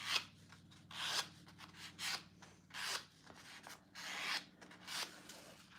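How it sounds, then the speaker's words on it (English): Fabric being folded and creased by hand for the back of a Poppie clutch, a series of soft, close rubbing swishes in uneven bursts, quiet and alone. "So I'm just folding up and making a crease here on the back."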